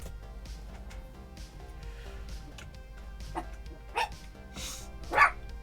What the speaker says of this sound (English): Dogs. So it starts.